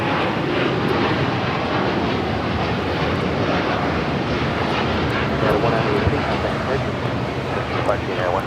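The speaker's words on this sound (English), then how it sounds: "This is United Airlines 198 taking off to Shanghai on the 787-9 Dreamliner." A United Airlines Boeing 787-9 Dreamliner takes off at Los Angeles International Airport, a steady, loud roar of jet engines filling the whole stretch with broadband rumble, with faint radio chatter and wind noise beneath.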